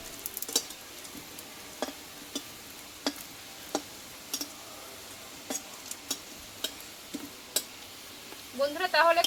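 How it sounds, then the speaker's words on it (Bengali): Jackfruit seeds frying in a small amount of oil, giving a faint sizzle broken by sharp, irregular pops and ticks, with a burst of crackling near the end. "আর কিন্তু খুব অল্প তেল লাগে বন্ধুরা, তোমরা দেখলে বুঝতে পারবে অল্প তেলে কিন্তু এগুলো ভাজা হয়ে যাবে।"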